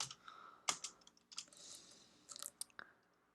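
Computer keyboard keys clicked in short bursts while code is typed, a few sharp taps scattered across a quiet room, close and fairly soft.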